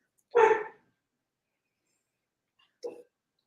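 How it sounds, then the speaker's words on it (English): Two short, separate dog barks sound in an otherwise quiet room, the first louder and the second softer a couple of seconds later. "is that your dog? Yeah, you hear that?"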